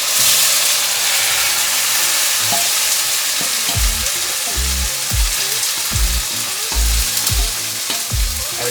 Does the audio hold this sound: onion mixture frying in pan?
yes